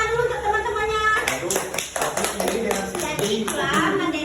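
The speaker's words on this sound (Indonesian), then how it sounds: "Tepuk tangan dulu untuk teman-temannya." Schoolchildren in a classroom clap together for their classmates, a dense burst of hand claps starting after about a second and continuing steadily, with a teacher's voice and children's chatter mixed in.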